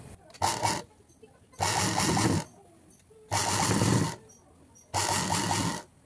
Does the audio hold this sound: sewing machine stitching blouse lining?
yes